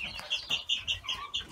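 Chicks in a chicken coop, including egg-laying breed chicks, give rapid, high peeping chirps in a busy overlapping chorus, close by with no voices.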